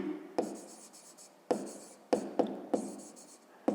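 Pen strokes on paper while working a 5th-grade maths problem, heard as several quick, sharp scratching bursts spaced irregularly, close and quiet with no talk.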